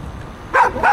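Wild dogs guarding the derelict House of Soviets in Kaliningrad bark twice in quick succession, sharp and fairly close, over a low background murmur.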